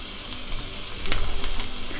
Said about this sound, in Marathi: आपण हा बारीक केलेला कांदा आहे ना तो घालून परतायचा आहे.